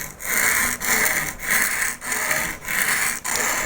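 A small woodcarving tool is sharpened on a stone in steady back-and-forth strokes, about six rasping passes with brief pauses at each turn, close and loud, with no voices.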